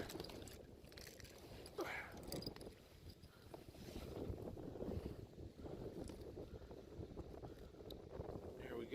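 Steady wind gusting across open lake water during kayak bass fishing, buffeting the microphone with a continuous rough rush and some faint paddle or hull knocks.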